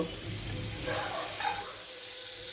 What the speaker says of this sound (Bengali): কড়াইয়ের মধ্যে দিয়ে দিলাম বাটার বাটারটা দিয়ে পুরো মাখিয়ে নেব